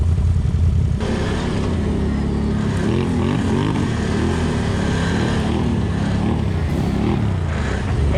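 Can-Am Renegade 1000 X MR ATV from 2021, its engine revving and rumbling steadily throughout on a trail ride near a park, loud and close with rising and falling throttle sweeps.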